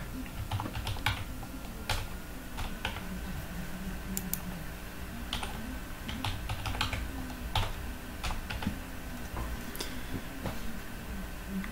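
Password being typed on a computer keyboard during an Ubuntu install, a close run of quick, irregular key clicks and taps with brief pauses, no talking.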